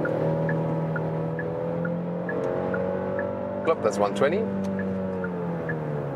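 A car engine hums steadily and climbs gradually in pitch as it accelerates from 90 km/h, with someone briefly speaking over it.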